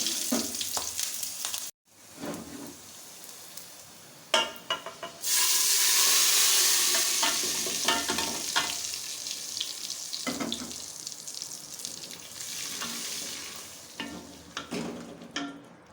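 Garlic cloves, cumin and red and green chilies sizzle in hot oil for dhaba-style masoor dal, a steady bright frying hiss broken by stirring clatter and a short quiet gap near the start.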